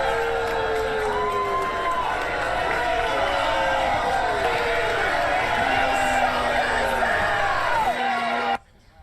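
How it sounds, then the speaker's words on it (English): A large outdoor crowd at a political rally for a New York congresswoman jeers and boos, a dense sustained roar of shouting voices that cuts off abruptly near the end. "They start jeering, they start booing"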